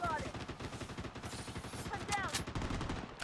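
Rapid automatic gunfire in the shooter game Blood Strike, dense repeated bursts of shots filling the clip with a few brief whistling tones over a busy game soundscape.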